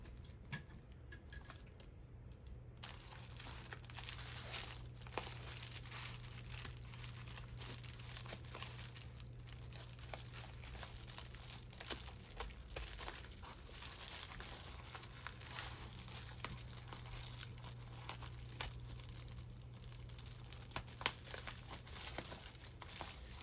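Faint, close crinkling and tearing of tightly glued plastic packaging as a cross-stitch kit is pried open, with soft rustles and a few light clicks over a steady low background hum.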